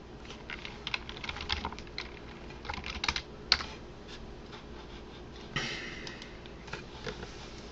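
Fingers tap out short irregular runs on a computer keyboard, the keystrokes close and fairly quiet, with a few sharper clacks and brief gaps between bursts.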